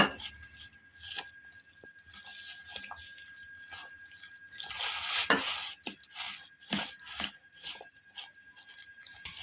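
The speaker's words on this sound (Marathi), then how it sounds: "त्यानंतर आपण आता पाणी घालून पीठ चांगलं एकत्र करून घेऊयात।" Water is stirred into flour batter for corn bhaji with a spoon in a bowl, soft wet squelches and light clinks in an irregular rhythm, close and fairly quiet.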